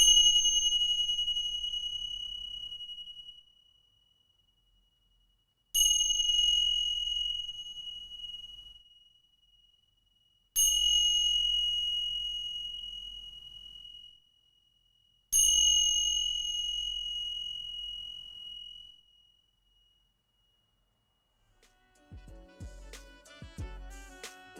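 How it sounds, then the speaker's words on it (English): Four evenly spaced, ringing metallic chime strikes, each sustained and slowly decaying into silence, followed by a softer, more cluttered jangle of chimes at the end. "These chimes right here."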